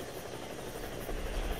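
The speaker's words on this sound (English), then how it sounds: "The first thing is a helicopter, which you can get after robbing the casino." Steady whirring rotor drone of a helicopter in the Roblox game Mad City, fairly faint and continuous with no talk.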